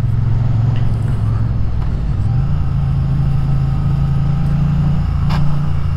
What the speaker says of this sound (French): pour tester un peu le châssis de la moto, comment elle se comporte dans des virages un peu dynamiques